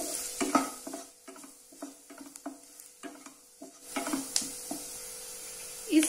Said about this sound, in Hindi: बेसन को हमें अच्छे से प्याज में मिलाकर भून लेंगे।